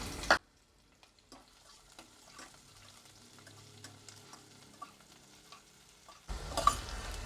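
One medium onion, sliced, frying in a pan while being stirred; a quiet, steady sizzle with soft scraping, bracketed by louder bursts at the start and end.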